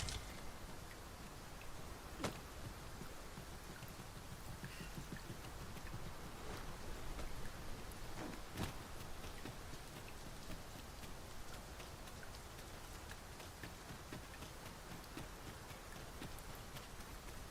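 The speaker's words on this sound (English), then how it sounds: "We must be really down on our luck to get caught out in such a downpour." Steady rain falls continuously in a soft, even hiss in Dragon's Dogma 2, with occasional sharper drips and ticks standing out.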